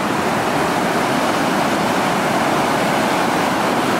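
River water rushing steadily beneath a bridge, a loud, continuous broadband roar with no breaks, heard close up and alone.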